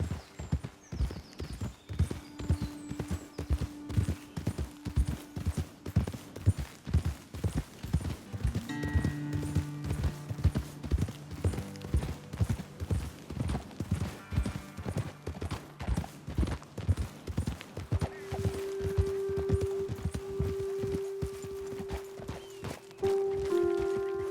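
Horses walk at a steady pace in the video game Red Dead Redemption 2, their hooves clip-clopping in an even, continuous rhythm for over twenty seconds beneath a soft sustained musical drone.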